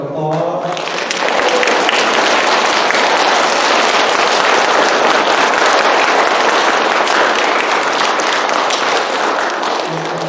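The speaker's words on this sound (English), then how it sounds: "can we all give him a round of applause?" A school gathering applauds a visiting TV meteorologist, with dense, steady clapping from many hands filling the room for about ten seconds, loud and close, with a few voices mixed in at the start.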